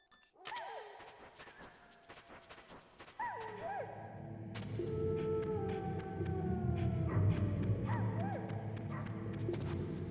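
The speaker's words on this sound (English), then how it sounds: "the dogs all try to kill you, but Otacon gave me Sniper Wolf's handkerchief, and these are her wolves" Wolves howl in Metal Gear Solid, several long rising and falling cries overlapping at moderate distance, with a rumbling ambience that swells partway through.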